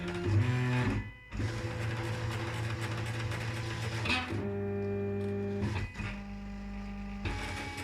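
A Silhouette Cameo 3 cutting machine cutting product labels gives out a steady mechanical whirring with sustained motor tones that shift pitch as the carriage moves, broken by short pauses, close and alone without talk.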